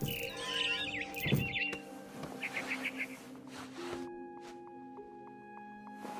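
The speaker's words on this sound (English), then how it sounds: "Then I heard chirping outside my window. It was a barn swallow going back to her nest." Barn swallow chirps from the video game What Remains of Edith Finch, a few bright twittering bursts over a layered game soundscape with steady tones and soft ambient noise.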